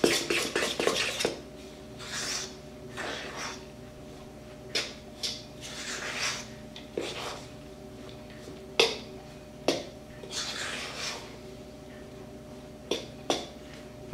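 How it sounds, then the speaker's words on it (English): A fork mixes shredded Fiesta cheese and ground beef in a bowl, producing intermittent clinks and scrapes against the dish, with a burst of rapid tapping at the start followed by spaced knocks and stirring sounds, close by. "Now I'll get a fork and mix this all together."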